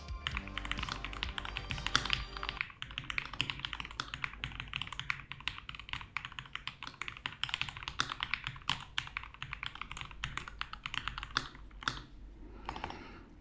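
Fast, continuous typing on a WhiteFox Eclipse high-profile mechanical keyboard fitted with new keycaps, a dense clatter of close, crisp key clicks and taps with no voices.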